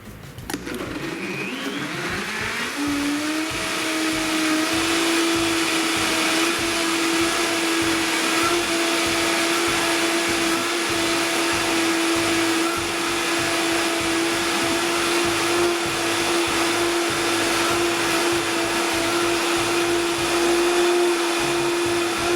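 A Vitamix blender spins up with a rising whine and then roars at a steady high pitch, churning a strawberry milkshake loudly and continuously for about twenty seconds with no talk.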